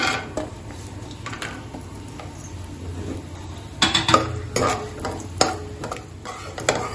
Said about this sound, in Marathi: आता त्यातच आपण हे पिस्ता भाजून घेऊया